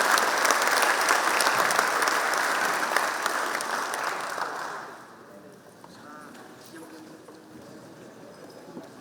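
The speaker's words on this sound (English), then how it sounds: "let our hands together to give applause to all the panelists" A conference audience applauds the panelists after a tech politics panel at the South China Sea International Conference. The clapping is loud and dense for about five seconds, then drops off sharply into a quieter room with faint scattered sounds.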